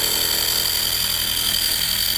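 A Nano polisher fitted with a small Lake Country HDO pad cutting through a cured coating gives a steady, loud, continuous high-pitched whir that runs uninterrupted throughout, with no voices.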